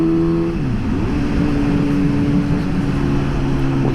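Suzuki GSX-S 750 motorcycle engine heard while riding gently, a loud, smooth steady drone whose pitch dips and settles as the gear or throttle changes.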